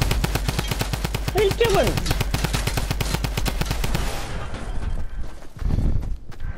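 Rapid automatic gunfire rattles in a fast, steady stream from a Fortnite match, loud and close, then cuts off near the end while a voice speaks briefly over it.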